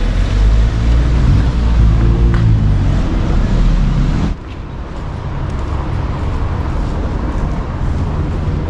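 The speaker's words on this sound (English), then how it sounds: "Look at this traffic. It's really heavy traffic right there." Heavy street traffic rumbles through a city street in Cusco, Peru, a dense, continuous low roar of engines that drops slightly in level partway through and carries on steadily.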